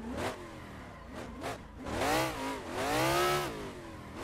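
A 1000 hp Nissan S15 pro drift car in a touge racing game revs hard in repeated rising and falling bursts, the engine howling up through the gears in loud sweeps with no talk.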